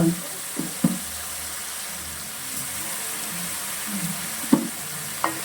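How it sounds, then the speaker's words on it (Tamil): Onions fry in a pan with a steady hiss, broken by a few sharp spoon or spatula knocks against the metal as they are stirred. Part of a home-cooked Sunday meal of ghee rice, dhalcha and chicken and mutton gravies. "இப்போ வந்து வெங்காயம் போட்டுக்கலாம்"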